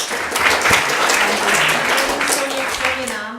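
Audience at a theatre evening of short plays applauds the playwrights and directors, a steady, dense round of clapping sustained for several seconds, with faint voices beneath.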